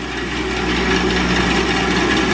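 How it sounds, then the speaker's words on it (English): A buffing wheel works over a wooden crate in a dim shop, giving a steady close-up rushing, rubbing hum with no pauses for the couple of seconds heard. "now I'm going to buff all that off"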